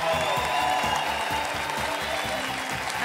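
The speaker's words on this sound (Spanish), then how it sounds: "recibamos con un fuerte aplauso a Antonio Díaz" Audience at the Festival Internacional del Humor applauding to welcome magician Antonio Díaz, a steady dense wash of clapping that fills the whole stretch with no pauses.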